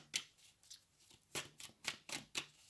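A deck of tarot cards being shuffled by hand, heard as a quick series of close, crisp riffling flicks and slaps in an irregular rhythm, alone without talk.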